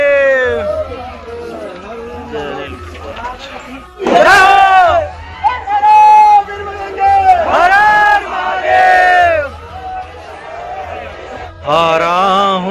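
Kanwar pilgrims crowd the gate of Neelkanth Mahadev temple near Rishikesh, loud bursts of massed chanting and shouting rising and falling in waves over a busy murmur of the throng.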